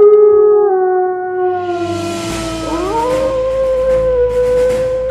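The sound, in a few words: loud howling outside the mansion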